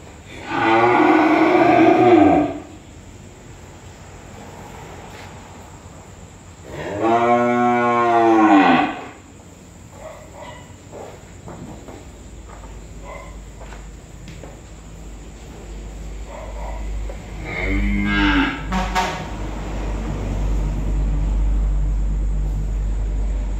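Cattle at a Vietnamese cow farm low repeatedly with several loud, drawn-out moos separated by quieter stretches, over a background of insects and a low rumbling hum.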